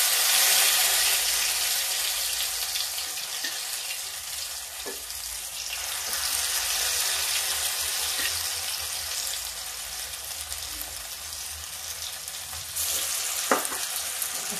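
Kachori dough balls fry in hot oil, giving a steady, dense sizzle and crackle that holds for the whole stretch, with occasional faint clinks of a utensil.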